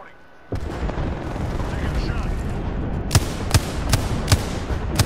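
Several sharp, loud gunshots from a first-person shooter game crack out in an uneven series near the end, over steady game ambience and background noise.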